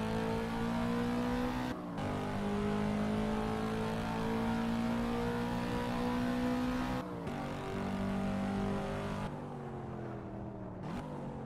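Race car in the Assetto Corsa video game driven flat out through the last corner at Circuit of the Americas, its engine holding a loud sustained high-revving whine, broken by a few sharp gear-shift dips.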